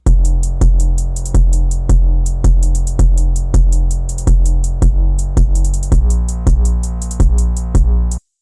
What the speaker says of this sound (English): Next up I added this hi-hat pattern.